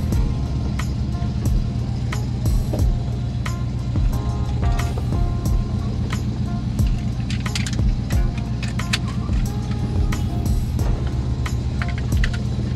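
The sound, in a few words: car engine running after starting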